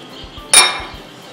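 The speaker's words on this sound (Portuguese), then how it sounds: "Vamos levar no fogo para ferver." A pot of sugar and water for cinnamon roll syrup is set down on a stovetop, giving one sharp metallic clank with a brief ringing tail, close and fairly loud, with faint low knocks before and after.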